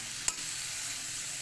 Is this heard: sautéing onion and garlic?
yes